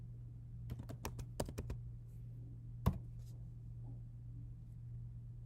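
Typing on a Mac computer keyboard while entering a chmod command: a quick burst of several close, crisp key clicks, then one sharper keystroke, faint against a steady low hum.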